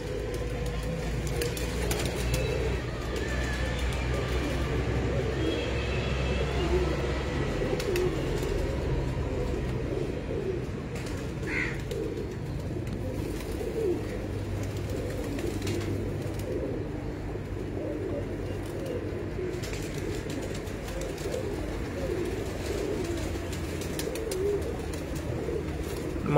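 A flock of pigeons coos steadily at a breeder's loft in the late afternoon, a continuous low murmur of many birds close by, with faint background rumble and no talk.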